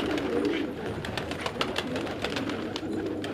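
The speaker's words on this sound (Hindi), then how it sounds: "माशाल्लाह से बहुत खूबसूरत कबूतर हैं" Qasid and Rangeen pigeons coo in a steady low murmur at close range, several birds overlapping, with light rustling and a few soft taps through the background.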